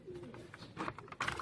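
Pet pigeons on a rooftop coo softly in short, low, throaty bursts, with faint rustling and a few brighter noises toward the end, close and quiet with no talking.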